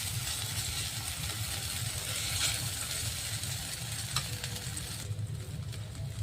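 Semolina batter frying in a kadai, a steady close sizzle with soft crackle running unbroken throughout, with no voices.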